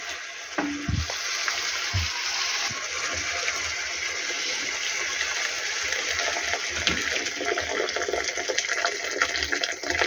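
Boiled water from a kettle pours steadily into a frying pan of rice for plov, with a hissing sizzle, a continuous splashing rush and a few clanks of cookware.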